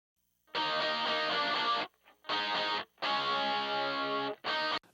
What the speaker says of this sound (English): And this is what the Galen Kruger sounded like